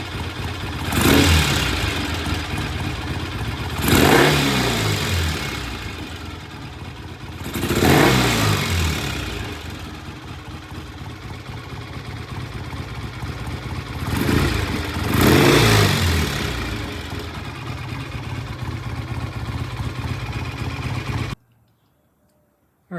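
A BSA A65 motorcycle engine runs steadily while warming up, an even, close mechanical idle broken by several rhythmic revs swelling and falling back, then cutting off abruptly near the end.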